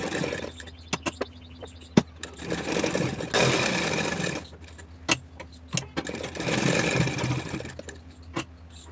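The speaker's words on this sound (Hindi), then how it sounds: "अब हमें पूरी कॉलर पर एक सिलाई और लगा देना है।" A sewing machine runs a line of stitching along a kurti collar in two short bursts, with clicks and clunks of handling and pauses in between, close and alone.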